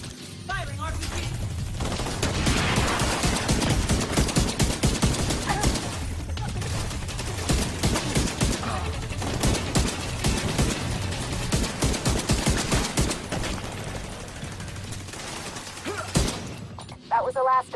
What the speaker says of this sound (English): Firing RPG!